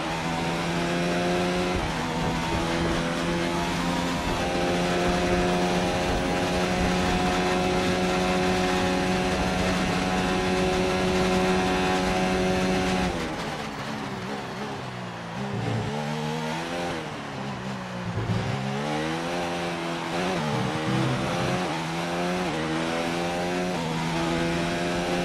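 A Formula 1 car engine in the video game F1 2019 at the Mexican Grand Prix holds a loud, steady high-pitched whine. It then drops and fluctuates through repeated rev changes and gearshifts for the rest of the stretch.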